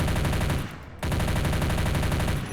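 A VHS Bullpup Rifle from the Modern Arms Blaster Pack fires rapid automatic bursts in Space Engineers, a loud, thuddy, bassy stream of shots with a short gap before firing resumes.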